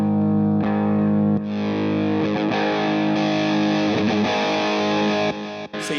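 A Sawtooth ES hybrid electric guitar played through overdrive distortion on a humbucker pickup, with thick sustained chords and fast distorted runs ringing loud and close with no talk.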